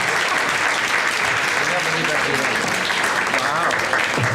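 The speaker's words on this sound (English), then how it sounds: "How about a big round of applause?" An audience at a City Club of Chicago event breaks into applause, a loud, continuous wash of clapping that fills the room throughout, with voices faintly mixed in beneath it.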